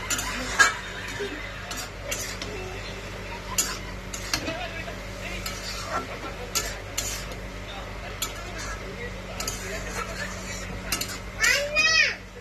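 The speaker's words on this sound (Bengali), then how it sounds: "আর আমি শাকটা সরষের তেলেই ভাজছি" Leafy greens fry in mustard oil with turmeric in a home kitchen, a low sizzle under repeated spatula scrapes and pan clinks, with a voice and other chatter around, plus a louder clatter near the end.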